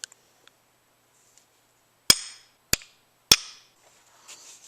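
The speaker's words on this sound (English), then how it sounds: "I got the new oil seal tapped in." Three sharp, separate metallic taps ring out as a new oil seal is driven into a 1995 Suzuki Sidekick power steering pump held in a vise, close and loud with short decays and near silence between.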